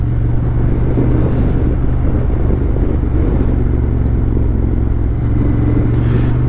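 Motorcycle cruising along an Idaho road, a steady loud engine drone with wind rush throughout, no clear shifts or gaps, heard close from the rider's position.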